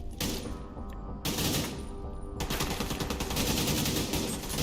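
Gunfire in the shooter game The Division 2: dense, loud bursts of rapid automatic shots, a brief pause, then sustained fusillades continuing to the end.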